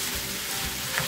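Chicken pieces fry in a pan for chow mein, giving a steady, close crackling sizzle while being stirred, with no speech.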